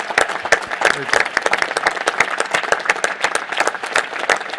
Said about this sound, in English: How about a round of applause for this whole panel?